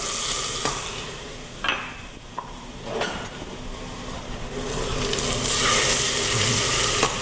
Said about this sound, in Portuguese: Eu já coloco o alho, já vou botar a manteiga, vou botar aqui um dente de alho.